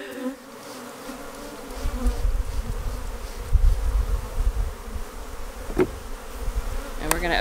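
A dense, steady drone of many honeybees buzzing close by at an open hive, rising and falling slightly, with a couple of soft knocks near the end.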